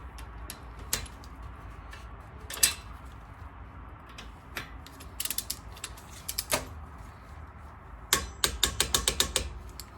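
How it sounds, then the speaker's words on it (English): Ratcheting wrench clicks and metallic knocks while tightening brake caliper bolts on a 2016 Toyota Highlander, with irregular bursts of sharp ticks, a quick rapid series near the end, over a steady low background hum. "use your wrench so you can make sure that the bolt doesn't move"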